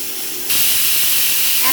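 A pressure cooker whistle on a kitchen stove bursts into a loud, sustained steam hiss after a half-second of quieter background, holding strongly to the end while a chicken and potato curry cooks.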